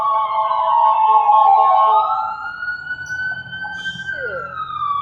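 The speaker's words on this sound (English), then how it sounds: "And there's some sirens." An emergency vehicle siren wails loudly and close, its long tone sliding gradually upward over several seconds before easing slightly, with faint traffic rumble underneath.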